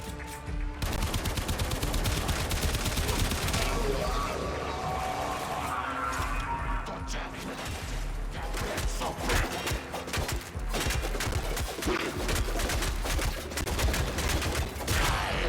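Dense, continuous automatic gunfire rattles loudly throughout a Warframe fight against the Sergeant on Phobos, with rapid overlapping shots and impacts.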